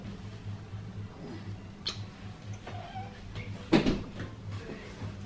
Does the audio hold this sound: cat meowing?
yes